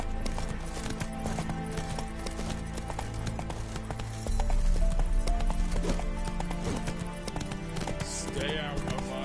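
Hooves clip-clop at a steady gallop in a fantasy video game, a continuous rhythmic pounding with game music and character dialogue layered over it.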